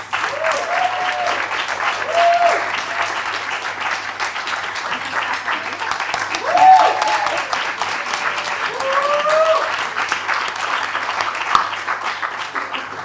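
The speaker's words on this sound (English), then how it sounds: "could we please have a round of applause for our panelists?" Sustained applause from a large event audience for a panel of speakers, steady dense clapping with a few faint voices mixed in, holding for about thirteen seconds.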